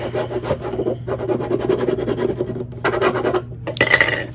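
A scraper is rubbed firmly back and forth over a vinyl decal on a flat surface, a close, gritty scraping made of many quick strokes, with a brighter swipe at the end.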